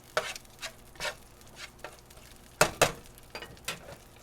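Onions cooking in a hot skillet on a stove, a soft steady sizzle broken by a series of sharp scrapes and clinks as a utensil stirs them, close and fairly quiet.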